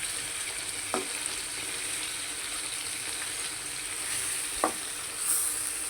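Pangas fish cooking slowly on low heat, a steady soft sizzle running throughout with two brief clicks of a utensil, close and even, no voices.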